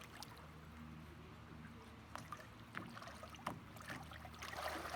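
A canoe paddle working a pry stroke, the blade held in calm lake water, giving soft, faint swishes and light trickles against a quiet background.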